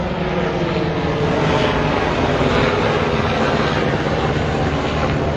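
Low-flying helicopter overhead, a steady, loud broadband engine and rotor roar that fills the whole stretch without a break, heard outdoors near a street.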